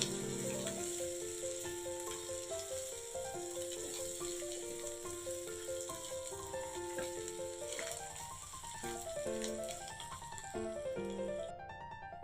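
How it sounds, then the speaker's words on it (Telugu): Turmeric sizzles in hot oil in a pan for khichdi, giving a steady soft frying hiss with faint stirring. Music plays over the sizzle throughout and no one speaks. "టీ స్పూన్ పసుపు యాడ్ చేస్తున్నానండి. చక్కగా దీని పచ్చివాసన పోయేంత వరకు వేయించుకుందాం."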